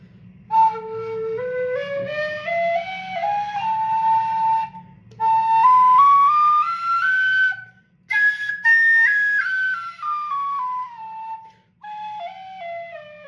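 A whistle plays a flowing melody of rising and falling sustained notes in several phrases with short breaks, clear and fairly loud over a faint steady low hum.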